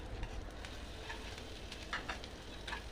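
Chopped onions fry in mustard oil, giving a soft, steady sizzle heard close but quiet, with a few faint stirring ticks.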